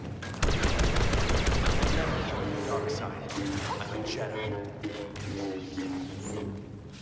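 Rapid bursts of blaster gunfire and explosions in the Star Wars Battlefront II video game, loud and dense at first, then continuing more sparsely under game voices and effects.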